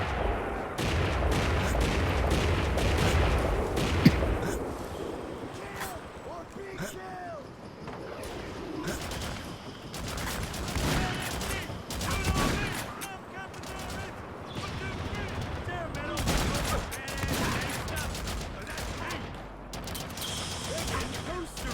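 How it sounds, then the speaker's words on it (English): Mortar fire and gunfire in the HAZE shooter game, heavy booming blasts and rattling shots repeating throughout, loud and chaotic, with a voice talking over parts of it. "mortars are ungodly loud if you've never heard them before"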